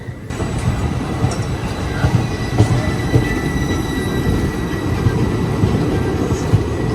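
A passenger train hauled by an electric locomotive rumbles past steadily with a dense low roar, faint metallic squeals and clicking wheels, fairly loud and continuous with no voices.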